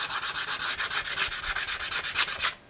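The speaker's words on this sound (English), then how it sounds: "all I'm gonna do now is flatten them out using this piece of 220 sandpaper on a flat surface" Hardened soft-plastic bass worm tail pieces are rubbed flat on 220-grit sandpaper laid on a flat surface, giving about twenty quick, even back-and-forth scrapes close up, then stopping abruptly.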